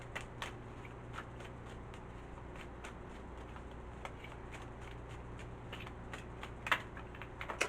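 Tarot cards shuffled and drawn at a reading table: a quiet run of soft, scattered card flicks and light taps over a steady low hum, with a few slightly sharper snaps near the end.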